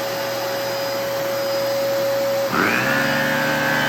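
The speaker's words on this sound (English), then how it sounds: "The vacuum cleaner is working" A Kenmore vacuum cleaner with a PowerMate head drones steadily, then its motor pitch shifts and surges louder partway through, continuing as a loud, close whine.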